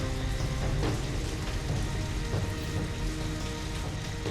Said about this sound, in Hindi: बारिश भी बहुते तेज हो रहल बा।